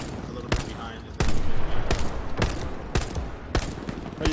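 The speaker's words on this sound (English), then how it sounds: "What are you shooting, Ben?" Gunfire in the World War II shooter Hell Let Loose: sharp, loud shots ring out at irregular intervals over a constant rumble of battle.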